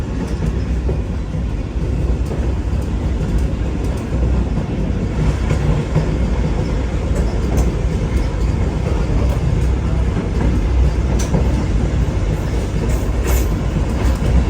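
Vande Bharat Express train roaring along at speed between Mumbai and Shirdi, a loud continuous rumble with faint rhythmic rail clatter throughout, heard from on board.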